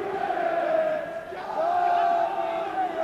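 Football crowd at a 1994 Southampton versus Everton match cheering and saluting a player taking a corner, a sustained roar of chanting voices that dips briefly then swells again, with commentary over it.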